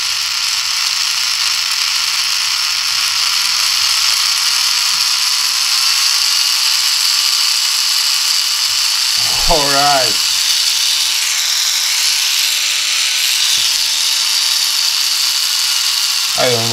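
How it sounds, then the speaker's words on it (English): A small 3-volt DC motor runs from a cheap power supply, giving a continuous high whir that holds steady for the whole stretch, with someone talking briefly over it midway. "this one is a small DC motor that works on 3 volts"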